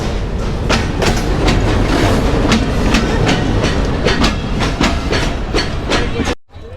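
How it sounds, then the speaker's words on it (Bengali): Rocket Mail train passing through Jessore Junction station, loud and close with steady rolling rumble and rhythmic clickety-clack of wheels over rail joints throughout, cutting off abruptly near the end. "এখান থেকে এই যে রকেট মেইল ক্রসিং হচ্ছে"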